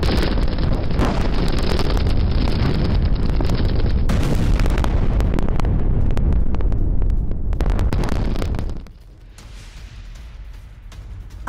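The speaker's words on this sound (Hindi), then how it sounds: "जहां यूक्रेन का बड़ा हमला हुआ, रूसी सैनिकों पर बमबारी की ये तस्वीरें देखिए।" Bombardment explosions strike Russian soldiers' positions in war footage, a loud, continuous roar of blasts and rumbling with wind buffeting the microphone, easing to a quieter rumble toward the end.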